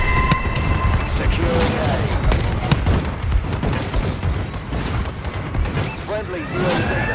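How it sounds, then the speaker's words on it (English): Bombing run explosions rumble and crack in the Call of Duty: Advanced Warfare video game, a dense, loud barrage of booms and gunfire under an announcer's voice calling out objectives. "Friendly bombing run clearing the way."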